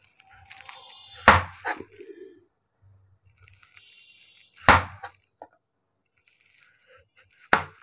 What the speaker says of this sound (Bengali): প্রথমে আমি ফ্রেঞ্চ ফ্রাইয়ের কাটটা দিব।